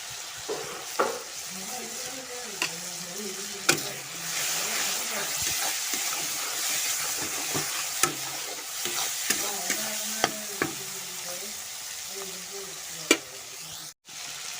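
Spices with ginger-garlic paste and turmeric fry in a pan for a simple chicken curry, a constant close hiss of sizzling broken by scraping, clinking stirs of a spoon against the pan.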